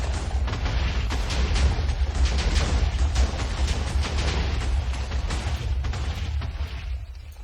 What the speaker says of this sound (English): See all these explosions?